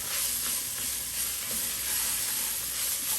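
Beef stew with tomato paste sizzles steadily in the pot as it is stirred while browning, a continuous close frying hiss with soft scraping and no voices.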